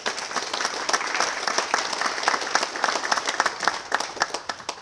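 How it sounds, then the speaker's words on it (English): An audience at a Jerry Cooper Day ceremony applauds, a full burst of many hands clapping close and loud, with individual claps growing more distinct and uneven as it tapers near the end. "So let's applaud our presidents."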